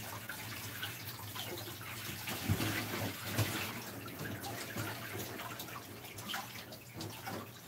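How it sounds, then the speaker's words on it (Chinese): Sweet potatoes scrubbed with a loofah sponge under running water at a sink, a steady, close wash of water and rubbing noise lasting throughout, with a few soft knocks. "用菜瓜布把它搓搓搓。"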